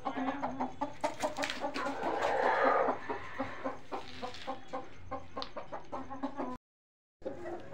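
Gavrani breed chickens cluck in a steady, repeated rhythm close by, with a busier burst of overlapping fowl calls early on and a brief silent gap near the end.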